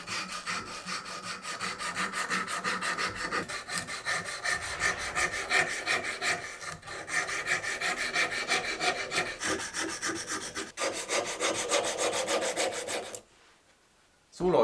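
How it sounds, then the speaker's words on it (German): Strips of sandpaper rub back and forth along the edges of cut wooden letters in a fast, steady scraping rhythm, close and continuous, before stopping abruptly near the end. "Habe mir dafür Schleifpapier in Streifen geschnitten. Und dann kann ich das jetzt hier schön entlang schmirgeln ein bisschen."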